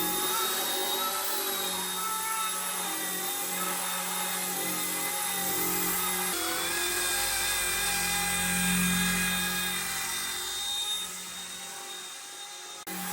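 Rage RC Hero-Copter mini RC helicopter flying indoors near an air vent, a steady high-pitched motor and rotor whine that holds continuously at close range and swells slightly as it manoeuvres toward a landing.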